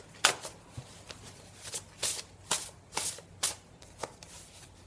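Tarot cards riffled and shuffled by hand, a run of crisp rapid bursts at steady intervals, close and fairly quiet with no talking.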